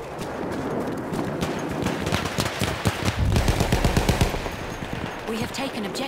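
Rapid bursts of automatic gunfire in the World War I shooter Battlefield 1, sharp repeated cracks over a dense battlefield din, loudest midway and continuing throughout.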